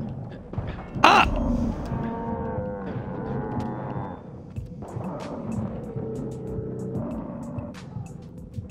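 Several drawn-out cattle moos in the video game Far Cry 5, one after another, with a sharp noise burst early on; no talking.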